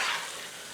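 Pasture-raised butter sizzles steadily in a pan while being stirred into Southern cabbage with smoked turkey, a brief close hiss with no talk.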